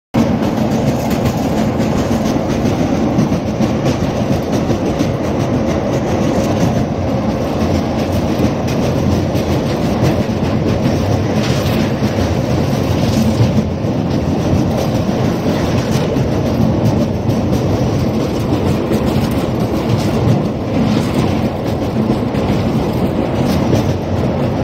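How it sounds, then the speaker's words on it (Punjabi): Passenger train running from Amritsar to Ludhiana, heard from inside a carriage: a loud, steady rumble with continuous wheel clatter throughout and no talking. "ਆ ਖੜੀ ਆਪਣੀ ਟ੍ਰੇਨ ਆਪਣੇ ਨਿਰਧਾਰਿਤ ਸਮੇਂ 'ਤੇ ਸਹੀ ਚੱਲ ਰਹੀ ਆ"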